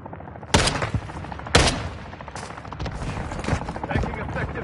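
Bursts of gunfire in the shooter game Modern Warfare, two sharp loud shots early followed by a steady rattle of rapid fire continuing throughout.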